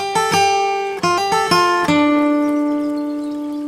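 An acoustic guitar plays a short phrase, several quick plucked notes followed by one note left to sustain and slowly fade, loud and close with no speech.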